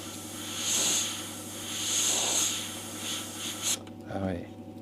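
Gaahleri Aventus airbrush spraying in soft, even hissing bursts, two longer puffs then shorter ones, close and moderately loud, with people talking quietly alongside.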